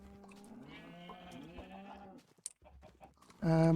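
Sheep bleating in a Minecraft-style video game near a grass block area: several wavering, nasal bleats in a row, then a louder, brighter bleat at the end, with no talking.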